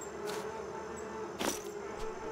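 Bees buzzing in the farming video game Farmer's Life, a steady insect drone with a few louder passes flying close, heard alone without talk.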